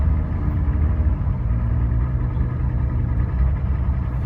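A car engine idles at around 1,000 RPM, a steady, even low rumble with no revving, close and continuous throughout.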